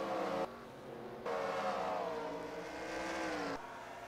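Race cars running side by side in the NR2003 racing video game at Watkins Glen, a steady engine drone with rising and falling pitch as the cars accelerate, no talking.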